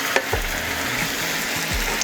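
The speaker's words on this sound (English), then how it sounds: "As you can see, it's starting to bubble on this side" Wine sauce bubbling and sizzling in a pan beside pan-roasted lamb chops, a steady, close frying hiss that holds throughout, with a few faint low knocks underneath.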